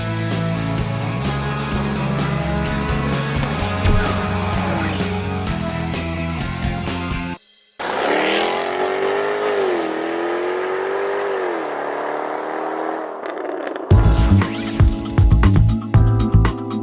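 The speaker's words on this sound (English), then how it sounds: "A 1960 Alfa Romeo in the mountains" A 1960 Alfa Romeo Giulietta Spider driving on mountain roads, its engine revving and shifting loudly up and down in pitch, dropping out briefly before a rumbling passage, with dense clattering sound at the end.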